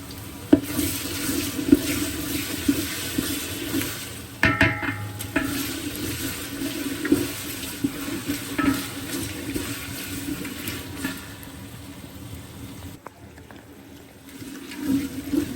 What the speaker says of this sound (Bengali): এই যে আদা রসুনগুলো একটু ভালোভাবে ভাইজে নিলাম।